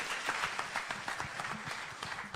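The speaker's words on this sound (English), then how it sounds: "Let's clap for him." Applause rings out from the audience at a national address at KICC, a dense, steady patter of clapping that carries on throughout with no talking over it.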